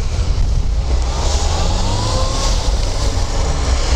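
A Renault Duster without ESP, with four-wheel drive and studded 185 tires, accelerating through slushy snow and mud: a loud, close engine drone that rises in pitch over steady road rumble.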